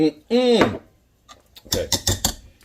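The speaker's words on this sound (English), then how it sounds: "give that a stir" A spoon scrapes and clanks against a pot while stirring mustard into mashed rutabaga, a quick run of close, sharp knocks following a brief spoken phrase.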